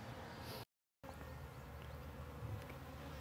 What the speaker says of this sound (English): a swarm of bees.